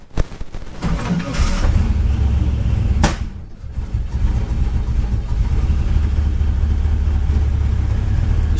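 A GM LS V8 car engine cranks and fires, then settles into a steady, loud idle that holds for several seconds, with no talk.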